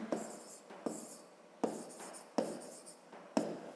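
A pen or pencil writes a 30 mm measurement by hand on paper during a fifth-grade geometry exercise: about five short, sharp scratchy strokes in a steady rhythm, close and fairly quiet, with no voices.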